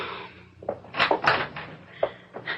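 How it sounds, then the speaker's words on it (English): Radio drama sound effect of a door opening: a brief series of wooden clunks, knocks and latch rattles, close and moderately loud, with no speech over it. "Paula, please open the door, Dave."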